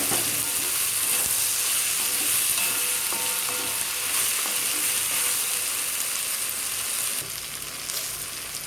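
Garlic and curry leaves frying in hot oil while being stirred, a steady bright sizzle with scraping stir sounds throughout, close and fairly loud, briefly easing near the end.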